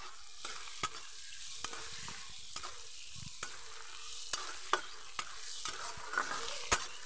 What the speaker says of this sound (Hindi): देखिए, यह अच्छी तरह से मैंने इसे चला दिया है